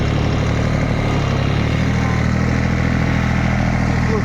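An old Dongfeng 244 tractor with a homemade plough runs steadily while ploughing a field, its engine a loud, constant close drone throughout.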